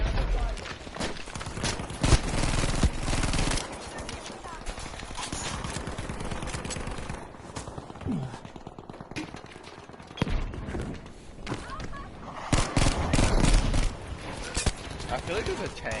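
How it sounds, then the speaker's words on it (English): Gunfire in Battlefield 2042 sounds as dense, rapid volleys of close shots and bursts from several weapons, with a few brief lulls and voices talking at times. "We're all just fucking shooting and missing."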